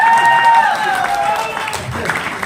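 Audience applause continues at a hall event, broad clapping that gradually thins out while a voice speaks over it.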